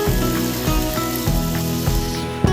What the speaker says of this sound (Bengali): মটরটা দেওয়ার পর আমরা 2-3 মিনিট কষে নেব।